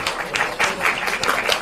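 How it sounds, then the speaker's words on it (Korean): Audience clapping for a lawmaker at a Korean Democratic Party political gathering, a dense round of applause with irregular bursts lasting about two seconds, fairly loud and steady. "막 한정희 의원님 굉장히 좋아하시는데 박수 한번 쳐주세요"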